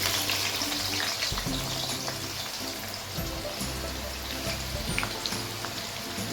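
Finely chopped large onion frying in hot oil in a karahi for a dumba mutten dish, a dense steady sizzle and crackle filling the whole stretch, close and continuous with occasional stirring.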